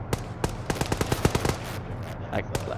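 Rapid bursts of video game gunfire, a quick string of sharp shots in uneven rhythm over a rumbling background, fairly loud.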